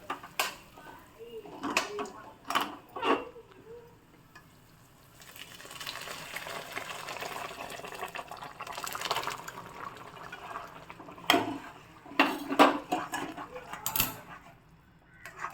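Cooked matki (moth beans) with their water poured from a pot into spicy misal masala base, a broad splashing gush midway between scattered clinks of utensils against metal pans.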